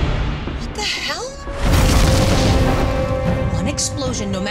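A huge explosion in a movie trailer starts as a sudden loud blast partway through and becomes a sustained rumbling roar, after quieter trailer sounds with voices.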